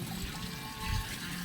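Water being stirred with laundry soap powder to dissolve it on a washing day, a steady soft sloshing with a brief louder swirl, no talk.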